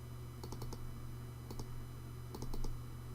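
Computer mouse buttons click in quick pairs while editing a Google Drive document, three short clusters of crisp close clicks over a steady low hum from the computer.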